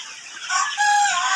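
Chickens on a poultry farm in Taraganj, Rangpur, give loud close clucks and a short crowing call that swell in the second half of the clip, with no talk.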